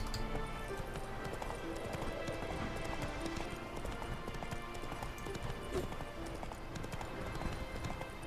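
Roach, Geralt's horse in the video game The Witcher 3, gallops with a fast, continuous clip-clop of hooves. The hoofbeats are fairly quiet and hold a steady rhythm throughout.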